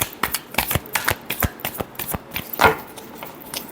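Tarot cards are riffled and shuffled by hand in quick, close, crisp flicks and slaps, a rapid rhythmic run lasting a few seconds.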